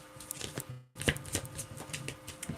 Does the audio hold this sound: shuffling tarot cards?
yes